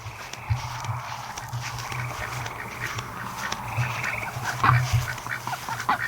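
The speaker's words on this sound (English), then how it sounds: "we got one peking duck that's out here." A Pekin duck quacking outdoors on a farm, several low, raspy quacks spaced irregularly among soft rustling and footstep sounds, fairly close, with no talking.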